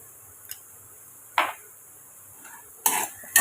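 A few sharp scraping clinks of a spoon stirring salted peanuts in a pan, spaced out with quiet pauses between strokes.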